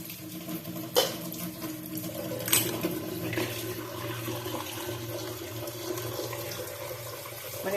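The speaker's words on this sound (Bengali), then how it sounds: "তারপরে একে ঠান্ডা জল দিয়ে ভরে দিতে হবে।" Cold tap water gushes steadily into a pot of boiled eggs, a continuous close splashing flow with a couple of brief clanks.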